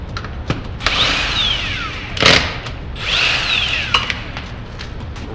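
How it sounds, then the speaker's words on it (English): An impact or power tool with a 22mm socket spins lug nuts off the front wheel of a 2007-2014 Chevy Silverado, two rising-and-falling whirring bursts with a clank between them, close and loud. "Now we'll use a 22mm socket to remove the lug nuts."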